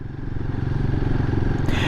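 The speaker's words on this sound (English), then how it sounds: "I do like the sound of the exhaust." Royal Enfield motorcycle fitted with a high flow filter, its exhaust thumping in a fast, even pulse, close and steady throughout this short stretch.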